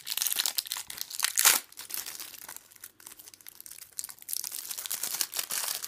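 A plastic-wrapped Duel Devastator trading card box is torn open, with close, loud crinkling and crackling plastic in irregular bursts and brief pauses, and no voices.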